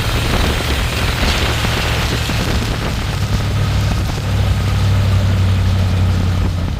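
A 1955 Buick Super with a big block engine drives through its gears, a loud, steady, low engine drone that rises slightly toward the end, close by and without a break.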